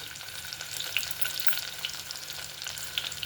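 Green chillies frying in hot oil with onions for a broad bean biryani, a dense close crackling sizzle with small spitting pops throughout, no voices.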